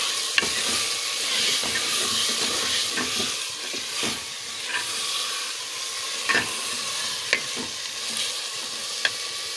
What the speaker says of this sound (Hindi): हम दाल को भून लेंगे।